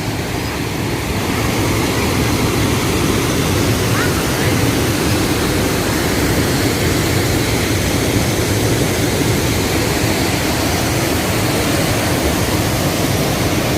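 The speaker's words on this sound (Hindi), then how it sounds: "ये छोटी वाटरफॉल है।" A small waterfall in the mountains near Manali, a loud, steady broadband rush of falling water that fills the whole clip without pause.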